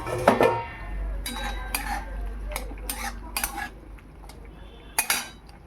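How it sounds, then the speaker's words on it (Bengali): In a home kitchen, a pot of okra curry is lifted off the stove and a wok is set back on the burner, making sharp metallic clanks and scrapes in several bursts over a low hum. "কড়াই আবার বসিয়ে দিলাম"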